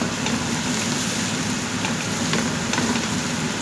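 Garlic frying in a pan beside cooked ox tongue, a steady close sizzle with faint crackles and no voices.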